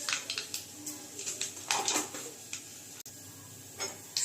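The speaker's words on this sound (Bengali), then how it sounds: "তেলটা গরম হয়ে গেছে, এখন আমি এখানে দিয়ে দিচ্ছি অল্প সর্ষে।" Mustard seeds crackling in hot mustard oil in a pan: faint, scattered little pops and ticks at an uneven rhythm, soft and close, no talk.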